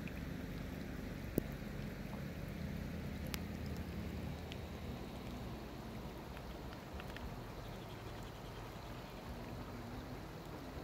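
Steady, faint rain hissing continuously outdoors in Ramnagar, with a low rumble of flowing water beneath and a couple of brief sharp ticks.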